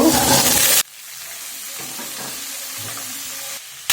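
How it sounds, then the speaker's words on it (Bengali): Chopped onions and a potato fry in a pan. A loud burst of sizzling opens and quickly drops to a softer crackle, then surges loud again at the very end. "পেঁয়াজগুলি কেটে নিয়েছি, সাথে একটা আলু, এগুলো দিয়ে দিব।"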